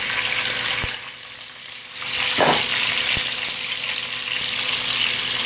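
Chopped garlic dropped into hot oil sizzles steadily while a vegetable dish is being cooked, with a brief softer dip and a short stir-like rustle midway, a continuous bright hiss throughout.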